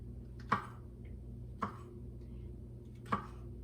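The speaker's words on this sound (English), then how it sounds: "I'm going to continue chopping my mushrooms here." A knife chops mushrooms on a cutting board in a home kitchen, three sharp, widely spaced cuts close by over a low steady hum of background noise, no talk.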